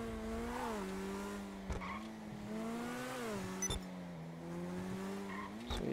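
The Neo sports car in GTA 5 Online drives with a steady, rising-and-falling engine drone. Tires squeal briefly a few times under hard cornering, with no talking over it.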